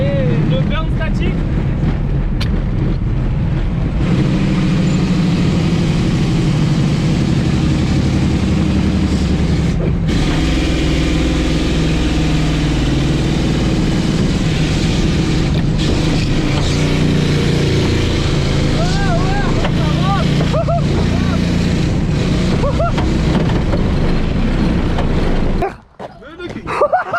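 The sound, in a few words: Peugeot 206 car engine revving during a static burnout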